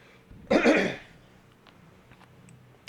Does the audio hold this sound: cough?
yes